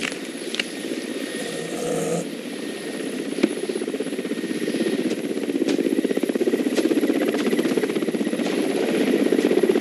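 A helicopter hovers over Siberian forest during a tiger capture, its steady rotor chop and engine drone loud and continuous, growing slightly stronger.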